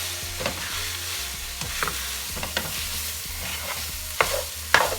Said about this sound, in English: Make sure that you mix it all perfectly because the end result will be better.